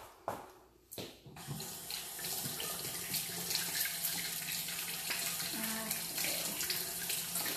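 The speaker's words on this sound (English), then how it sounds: "Let me wash my hands real quick." A kitchen tap runs steadily while hands are washed in a sink during keto bagel baking, a brief knock and splash at the start before the water settles into a continuous close rush.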